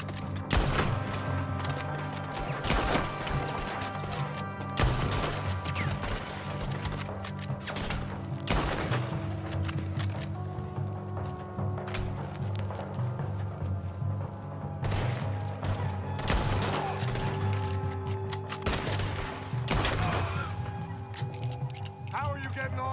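Gunfire during a field battle in the video game Red Dead Redemption 2, with repeated sharp rifle shots and scattered bursts over a steady low rumble, and voices shouting in the mix.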